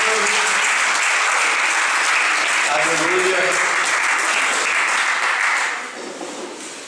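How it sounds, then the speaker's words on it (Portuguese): A church congregation at a couples' gathering claps loudly and continuously, with scattered voices calling out over the applause before it fades toward the end. "Você pode aplaudir Jesus."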